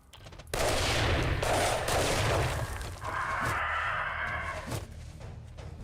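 Gunfire in the 7 Days to Die video game, with sustained loud rapid bursts of shots that run almost without a break, followed by a further stretch of continuous firing.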